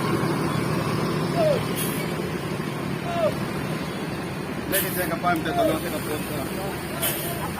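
An ANS Patriot air-suspension bus rumbles at Pondok Pinang Lebak Bulus bus terminal, its engine idling steadily while short hissing bursts and background voices rise over it.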